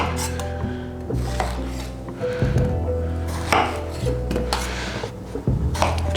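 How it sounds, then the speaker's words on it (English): Pears and apples are diced with a knife on a board for chutney, a few close chopping knocks and scrapes heard over soft background music. "We're going to start by dicing 2 pears and 2 apples ready for the chutney."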